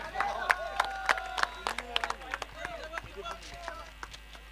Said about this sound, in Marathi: एकदा सगळ्यांनी जोरदार टाळ्या